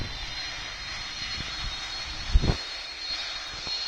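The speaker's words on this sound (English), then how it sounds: "Now this thing has quite the engines, as you can see." Boeing 747 engines in the PTFS flight game, a steady jet-engine drone while taxiing, with a short louder surge midway and no talk.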